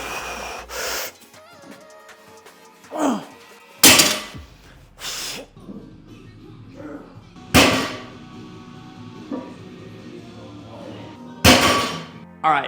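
A loaded barbell is set down on a gym floor after deadlifts in a strength session: three loud, heavy clanking thuds spaced a few seconds apart, with hard breathing and gasps in between.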